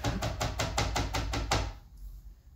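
Onion and garlic are chopped on a cutting board with a knife, about eight rapid, evenly spaced loud chops that stop abruptly, leaving quiet room tone, no talking.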